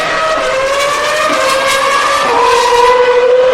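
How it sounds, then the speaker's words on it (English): A Toro Rosso Formula 1 car at Spa screams past close by during qualifying, its high engine whine holding steady then dropping sharply in pitch as it passes and pulls away, loud and alone. "There goes one of the Toro Rossos."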